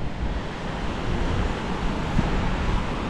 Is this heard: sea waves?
yes